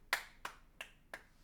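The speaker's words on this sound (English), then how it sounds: "She's clapping in the background." A child claps five evenly spaced times in the background, each clap faint and sharp against quiet room tone, with no talk.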